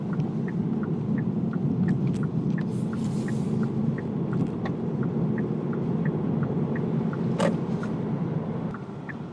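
2020 Kia Stinger GT-Line with a 2.0L turbo engine and AWD cruising on the road, a steady low rumble and road hum from inside the cabin with faint regular clicks, easing slightly at the end.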